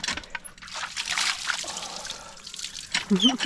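Water pours and trickles from an outdoor hand pump at a free beach camping spot during an outdoor shower, a steady splashing stream with people talking and laughing over it.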